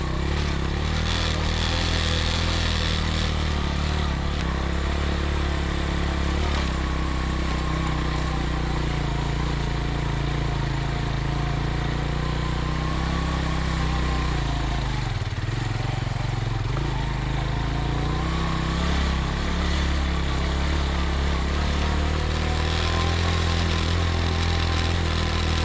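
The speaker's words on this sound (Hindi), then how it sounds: "हम कोशिश करेंगे कि हम बाइक आगे ले जाए।" A motorbike engine running steadily and loudly up a rocky mountain track toward Rama Lake in Astore, Pakistan, droning close with a low, continuous rumble and only a slight dip in the middle.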